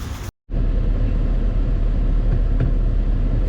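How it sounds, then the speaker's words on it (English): A Tata Punch driving through a slush track gives a steady, loud rumble of engine and tyres that runs continuously after a brief cut near the start. "So let me drive the Punch through this track."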